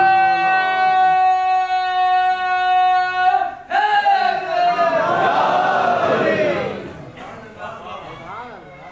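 A large crowd at a Shia majlis for Ayyam-e-Fatimiyah chants devotional slogans in unison, loud and sustained, with a lead voice calling out and the gathering answering in long drawn-out cries.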